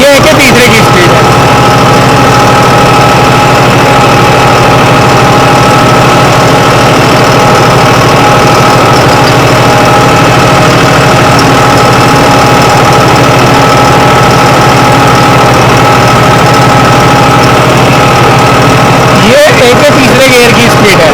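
A John Deere tractor engine runs steadily in A range third gear with no load, a loud continuous mid-pitched drone with constant vibration and no pauses.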